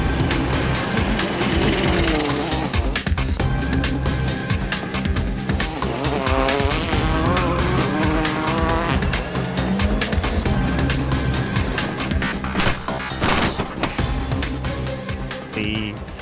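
A Hyundai WRC rally car at speed on a muddy, slippery stage in Germany, its engine revving hard and shifting repeatedly, with tire squeal and skidding noise, loud and close, plus a brief voice underneath.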